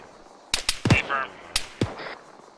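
Three sharp rifle shots ring out in Arma 3 amid a military squad exercise, spaced unevenly across a couple of seconds, loud and close, with a voice speaking between the reports.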